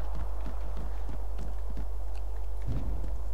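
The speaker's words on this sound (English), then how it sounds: "I was riding that wooden horse." Wooden horse in Magicka trotting along with a steady run of hollow clip-clop hoof knocks, evenly spaced and close, over a constant low hum.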